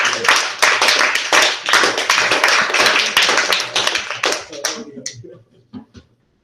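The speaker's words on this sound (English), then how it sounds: "give you all of you a big applause" A Toastmasters club meeting audience gives a big round of hand applause, a dense and loud burst of many clapping hands that thins into a few scattered claps and fades out over the last second.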